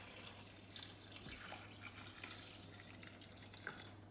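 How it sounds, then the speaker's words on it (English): Water is poured over chopped vegetables in a Thermomix bowl while making vegetable soup, giving a faint, steady trickle and splash that runs for about four seconds. "we're now going to add water"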